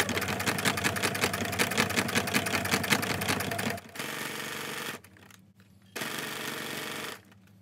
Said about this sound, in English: You can go ahead and just backstitch here if you want.